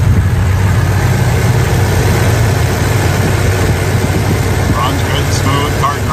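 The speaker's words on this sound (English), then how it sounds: "Let's take a listen to the engine." A muscle car engine idles steadily with a low, even rumble close by, fan and accessory whine riding on top and a few faint chirps near the end.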